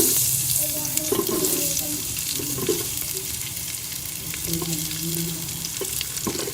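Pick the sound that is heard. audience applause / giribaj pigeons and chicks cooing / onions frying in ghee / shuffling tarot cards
onions frying in ghee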